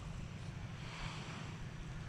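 Sea waves wash onto a beach as a steady, faint rushing surf with low rumble and wind buffeting the microphone, no voices.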